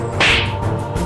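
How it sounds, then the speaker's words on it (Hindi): A single sharp whip crack lands once, loud and close, in a comedic Aladdin scene of someone being beaten, set against a low background murmur with no speech. "ये किसकी कुटने की आवाज है भाई?"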